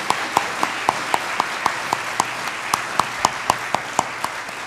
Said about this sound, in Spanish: vamos a un fuerte, fuerte aplauso